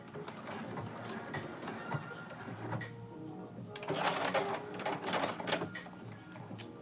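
A sewing machine stitching fabric during a live sewing session, a faint steady mechanical whir with a louder run of rapid stitching near the end and a brief pause midway.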